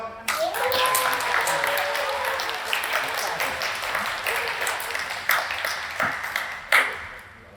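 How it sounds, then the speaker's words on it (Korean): Applause at a Rotary club family workplace visit gathering, many hands clapping steadily throughout with a dense, moderately near wash and a few louder claps toward the end. "박수 한번 주세요."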